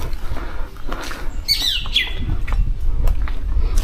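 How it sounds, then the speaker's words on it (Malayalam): Birds call in a quiet forest along a wooded road between Kannur and Wayanad: a few short, bright chirps stand out midway over a low rumbling background, with no talking. "പക്ഷികളുടെ സൗണ്ട് മാത്രം കേട്ടോ."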